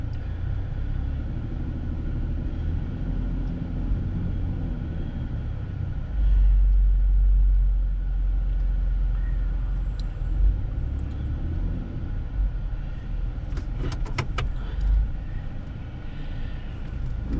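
A Ford car engine held in gear while power braking, a steady low rumble that swells into a heavier drone midway then settles, with faint clicks near the end and no talking.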